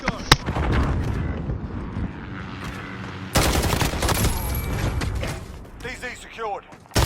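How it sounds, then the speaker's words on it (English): Video game gunfire from Call of Duty Black Ops Cold War Alpha: dense bursts of automatic weapons and explosions come in two loud waves, with a sharp surge midway and a sudden cut at the end. "Like you hear all the gun sounds?"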